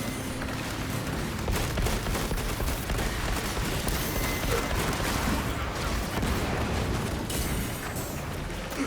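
Rapid video game gunfire pounds against armor in a continuous dense barrage of shots and impacts, loud and close throughout with no pauses.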